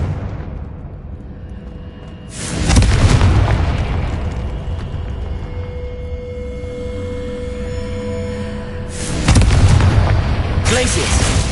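Two loud booming blasts of the Confringo fire spell in the video game Hogwarts Legacy, each a sudden heavy burst trailing into a rumbling decay, the second coming several seconds after the first over low ambient hum.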